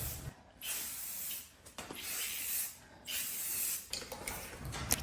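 Bursts of spray paint hiss in short pulses while painting an IKEA dresser, several seconds each with brief pauses between, close and steady.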